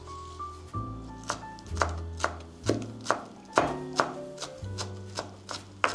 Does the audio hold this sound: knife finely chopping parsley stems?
yes